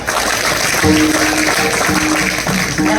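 Kirtan audience clapping together in a hall, a dense, loud, sustained wash of applause with musical tones and murmuring mixed in underneath.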